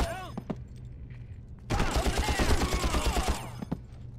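Rapid bursts of P90 submachine gun fire ring out in the Far Cry video game, a dense, loud volley lasting under two seconds amid quieter game ambience.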